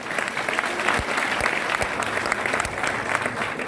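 A large audience claps loudly and steadily at a company success program in Jaipur, dense continuous applause with a few crowd voices mixed in.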